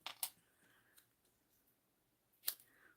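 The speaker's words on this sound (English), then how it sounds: "Let's snip that." Scissors make a few sharp, quiet snips while cutting paper for a birthday craft tag, two close together at the start and one more near the end, with near-silence between.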